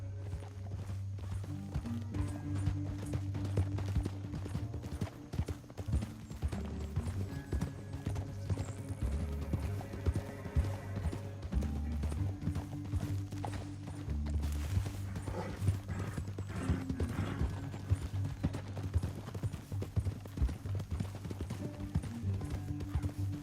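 Steady clip-clop of horse hooves trotting along, continuous and fairly loud throughout, with a low rumbling backdrop and an occasional faint whinny.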